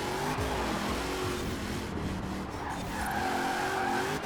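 A 1300 hp Ford Bronco in Forza Horizon 4 online racing roars steadily with a loud, continuous engine note and tire squeal, the revs rising and falling slightly as the throttle is feathered, with no talk.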